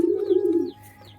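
A pigeon gives one drawn-out, close coo lasting most of a second, then fades to a quiet hum as the flock rouses to feed at a home loft.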